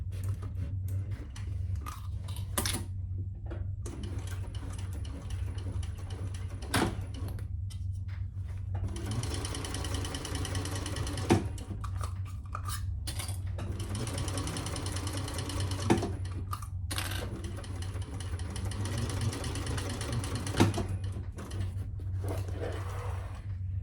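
A sewing machine called Thor stitches a bag in several long, rapid runs separated by short pauses, with a steady low hum underneath, all close by.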